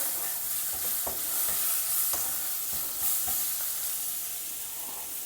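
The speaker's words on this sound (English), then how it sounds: "Continue stir frying till the onions become a little translucent." Steady sizzling and hissing of sliced onions stir-frying in a pan until translucent, with occasional scrapes and taps of stirring, close and continuous.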